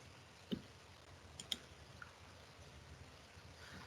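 A computer mouse gives a few faint, separate clicks, one alone and then a quick pair, over a quiet room hum with no talking.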